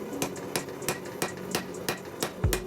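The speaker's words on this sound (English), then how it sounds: "So the first thing that I want to do is forge the bevels back into the billet." Hammer blows strike a hot Damascus steel billet on an anvil, forging bevels back into a dagger blank. Eight sharp, ringing strikes land in a steady, even rhythm, close and loud, with no talk.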